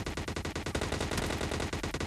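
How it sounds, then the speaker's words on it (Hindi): Rapid bursts of S12K shotgun fire in a mobile battle-royale video game, loud dense shots crackling in quick succession with barely a gap between them. "तो उसने मुझे फायरिंग करी"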